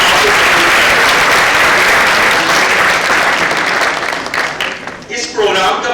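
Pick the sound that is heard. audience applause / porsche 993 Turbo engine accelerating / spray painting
audience applause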